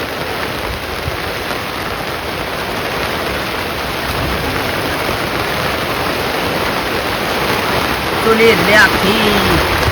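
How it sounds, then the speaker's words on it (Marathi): Heavy rain pouring down steadily as a dense, even hiss around an outdoor shepherds' camp during a pre-monsoon storm, with a brief voice near the end. "पाऊस वाढला"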